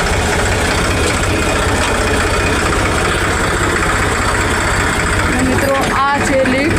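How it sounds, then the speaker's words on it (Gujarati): A farm tractor's engine idles after being started, a loud, steady low rumble that runs unbroken. A brief warbling sound rises over the engine near the end. "હવે કરી દીધું આપણે ટ્રેક્ટર ચાલુ।"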